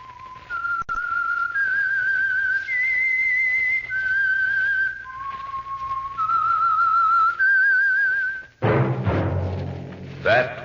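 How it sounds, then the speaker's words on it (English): A melodic human whistle carries a tune in clear, sustained notes, alone and fairly close, ending with a burst of music. "That whistle."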